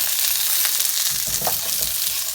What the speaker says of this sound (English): we're going to stir that around a little bit